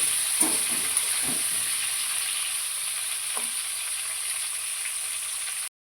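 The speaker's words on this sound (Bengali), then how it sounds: "আলুগুলো ভাজা হয়ে গেছে" Potato pieces fry in hot oil with black cumin seeds, giving a continuous bright, close hiss of sizzling with a few soft stirring scrapes early on.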